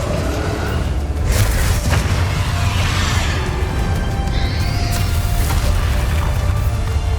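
Spell blasts from Confringo and Bombarda in the Hogwarts Legacy video game, a dense run of loud booming explosions and crashes overlapping one another, with no voices.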